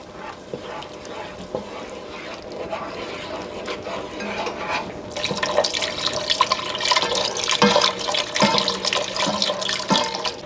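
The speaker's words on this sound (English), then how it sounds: "we are just going to kind of slowly start pouring that in" Chicken broth poured slowly into a pot for a dinner recipe, a steady liquid stream that grows louder and splashier about halfway through, with light clinks and no talk.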